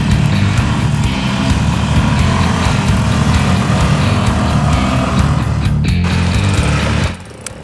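Harley Davidson MT350 military motorcycles ride through sand, making a loud, continuous blend of buzzing single-cylinder engines that ends abruptly near the end.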